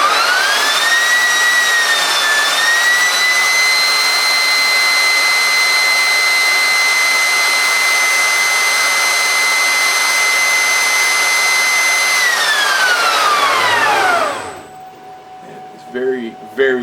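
An upgraded table saw spins freely with no load at high RPM, giving a loud, steady high-pitched whine that holds for about twelve seconds, then winds down in pitch and fades out, followed by a few faint clicks.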